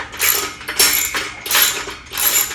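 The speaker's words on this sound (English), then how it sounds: "now we just got to crank them down, right? Allen wrench in, and that's it." Bolts on fitness equipment are tightened with an Allen wrench: four short bursts of metallic clicking and scraping ratchet-like turns, close and fairly loud, separated by brief pauses.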